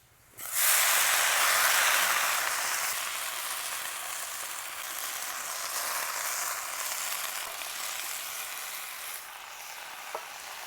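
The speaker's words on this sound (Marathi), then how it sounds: "भाजी तेलामध्ये चांगली परतली" Onion and vegetables fry in oil in a pan, a loud steady hiss and sizzle that bursts in suddenly and holds with slight swells for several seconds, no voices.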